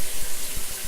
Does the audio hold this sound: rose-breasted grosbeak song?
no